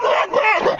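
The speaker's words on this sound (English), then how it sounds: "When I go walking, I pass by Barky, the friendly dog." A friendly dog gives a loud, close, whiny bark-and-yip vocalization in two or three quick bursts, with no other sounds alongside.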